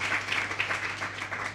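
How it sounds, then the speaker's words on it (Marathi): Audience applause at a Brahma Kumaris Parvati Nagar centre's twenty-fifth anniversary gathering: a steady patter of many hands clapping at moderate distance, fairly soft and continuous for the whole stretch. "जोरदार टाळ्या होऊन जाऊ द्या"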